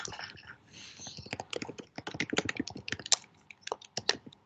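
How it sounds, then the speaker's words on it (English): Someone types quickly on a computer keyboard, a close, irregular patter of light key clicks in short bursts and pauses. "I can hear somebody typing."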